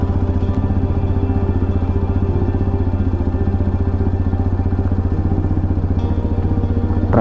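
A Hero Xpulse 210 motorcycle on an off-road trail at Savandurga runs with a steady, rapid pulsing engine note, close and loud throughout, with no voices.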